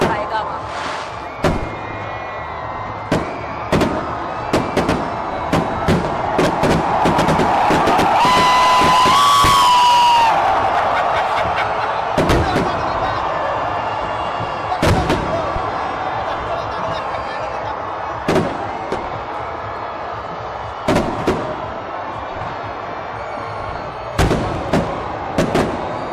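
Fireworks at Pakistan Independence Day celebrations at Minar-e-Pakistan, Lahore: repeated sharp bangs and cracks crackle at irregular intervals over a steady roar of crowd noise, with a whistling burst near the middle and a busy open-air din throughout.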